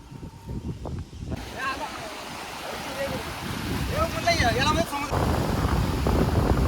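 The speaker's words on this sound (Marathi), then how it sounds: "मस्त असं सुंदरसा वारा सुटलेला आहे इथं" Wind near the coast at Malvan, India, buffets the microphone with a low rumbling roar that grows stronger toward the end, while a person speaks over it.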